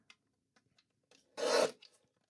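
Paper being cut for a fold card, a single brisk rasping slice lasting about half a second, close and fairly loud, with a few soft taps and handling noises before and after.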